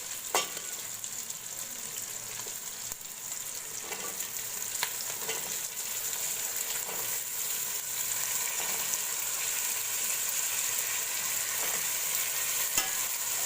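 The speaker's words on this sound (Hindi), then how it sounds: "अब इसमें मैं आलू शामिल करूँगी।" Potatoes tipped into a pot of frying masala for a chicken and capsicum curry, then stirred: steady sizzling and frying with scraping stir strokes throughout, no talk.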